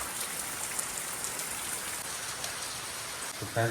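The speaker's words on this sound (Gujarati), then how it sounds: "બહાર તો જબ્બર વરસાદ ચાલુ છે." Heavy rain pours outside, a steady, dense close hiss that runs unbroken throughout, with a brief tonal sound near the very end.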